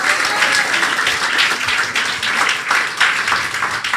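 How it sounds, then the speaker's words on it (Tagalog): A church congregation at a Pentecost Sunday service claps for the Lord, a loud, full crowd of hands in continuous applause with slight surges in intensity, no speech over it. "Pwede ko bang marinig ang palakpak na para sa Panginoon"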